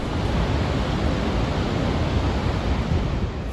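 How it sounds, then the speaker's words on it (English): Vøringsfossen, a 182-meter waterfall beside Fossli Hotel in Norway, roars as a constant broadband rush, steady and unbroken, with wind buffeting the microphone. "Located just next to Fossli Hotel, the waterfall has one small drop and one major drop, totaling 182 meters."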